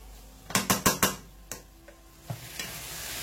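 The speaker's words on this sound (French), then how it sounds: "Mélangez bien les épices aux oignons et aux poivrons. Et laissez cuire à feu vif pendant 5 minutes." Onions, peppers and spices frying over high heat in a pan, with a quick run of four sharp stirring scrapes followed by a few sparser knocks against a faint steady sizzle.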